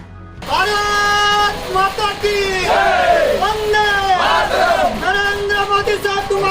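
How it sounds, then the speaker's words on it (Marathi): Party workers cheer loudly in celebration after a candidate's renomination for the Dindori Lok Sabha constituency, with a crowd chanting and whooping together in a sustained, close, dense roar. "यामुळे कार्यकर्त्यांनी एकच जल्लोष साजरा केलाय"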